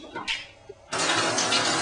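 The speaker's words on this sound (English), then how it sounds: "Courtesy flush." A toilet flushes, a sudden loud rush of water that surges in partway through after some faint bumps and room noise, then roars on steadily until the end.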